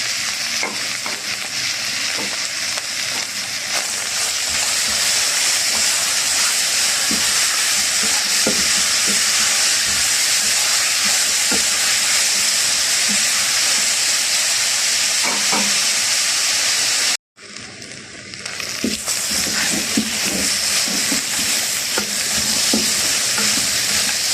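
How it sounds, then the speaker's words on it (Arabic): Minced onion and lamb sautéing in a pan, giving a loud, steady sizzle and hiss with occasional stirring scrapes, broken only by one brief moment of silence. "بعد ما البصل دبل زي ما انتوا شايفين كده، واللحمة اتشوحت فيها حلو"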